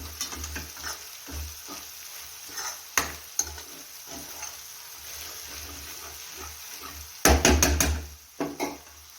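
Turmeric gets stirred into a frying tempering in a pan: quiet sizzling under repeated spoon scrapes and clinks against metal, ending in a louder burst of clattering stirs near the end, with no speech.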